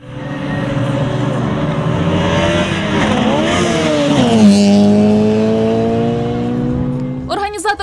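Drag racing cars at a season-closing event on an airfield runway in Reshetylivka roar loudly and steadily, engine pitch sweeping up and down through gear changes before a sharp burst at the end.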